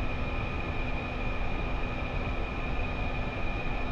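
A MiG-21 fighter jet taxis toward the runway, heard as a steady, dense engine roar with a constant high whine, loud and unbroken throughout.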